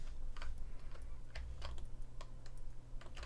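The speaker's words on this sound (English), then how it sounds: "I'm gonna press the Control Shift and Alt and click on here." Computer keyboard keys pressed in quick irregular bursts along with a mouse click during 3D modelling work in ZBrush, crisp close clicks over a steady low hum, no talking.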